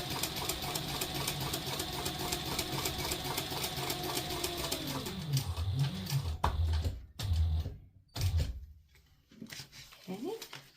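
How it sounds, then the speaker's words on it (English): Sewing machine stitching the bottom seam of a clear vinyl trick-or-treat bag at a 3/8-inch seam allowance: a steady, fast mechanical whir with rapid needle ticks that slows and winds down, then scattered handling clunks, with a voice speaking nearby. "now we are going to sew the bottom at 3/8 of an inch seam allowance"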